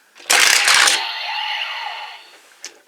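A Kamen Rider Drive DX Trailer-Hou toy gives a short burst of clattering plastic sliding, then a bright electronic activation sound with sweeping tones fading out, ending with a small click.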